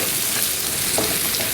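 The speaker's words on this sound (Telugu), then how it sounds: "ఎగ్ అంతా ఈ విధంగా ఆయిల్లో ఉడుకుతుంది. ఇలా మనం కలుపుతూ ఉండాలి అడుగంటకుండా." Egg frying in oil for fried rice while being stirred, a dense continuous hissing sizzle heard close with faint scraping under it, steady throughout.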